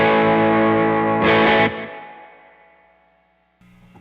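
Electric guitar riff tone with a short slapback echo fattening it and spring reverb, a loud sustained chord that swells then rings out and decays over a few seconds before another note starts.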